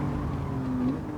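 A car engine in Gran Turismo 7 during a license test drones steadily at moderate level, its tone shifting slightly as the gear changes down, with no talking.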